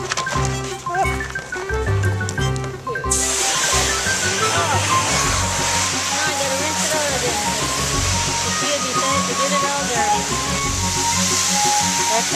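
Garden hose water gushing steadily into a paddling pool set out for Cavalier King Charles Spaniels, a continuous splashing rush that grows fuller after the first few seconds, with someone talking over it.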